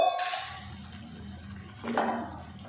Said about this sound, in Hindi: और अब इसमें डाल देंगे पानी